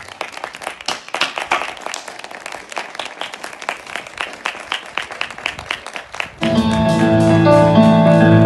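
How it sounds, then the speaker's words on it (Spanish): An audience breaks into applause, with brisk, crisp clapping for about six seconds before it gives way abruptly to music. "Y vamos a dedicarle un aplauso como ellos se merecen."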